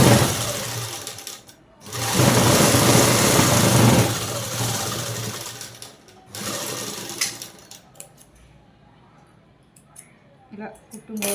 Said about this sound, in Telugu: ఇలా కుట్టు ఒకటి కూడా వేసాను నేను